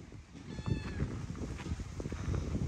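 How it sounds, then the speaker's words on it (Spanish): A shut-in cat meows a few times, faint and somewhat distant, over a rumbling background. "El pobre gatito lo vinieron a cerrar aquí."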